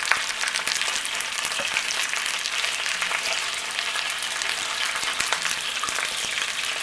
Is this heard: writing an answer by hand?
no